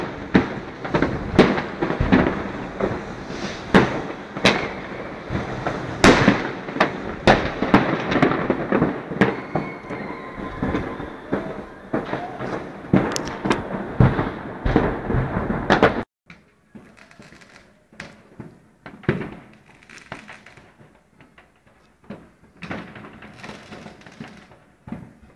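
Dense New Year's Eve fireworks bursting in rapid, overlapping cracks and booms for about sixteen seconds, loud and close, then thinning abruptly to scattered fainter distant pops.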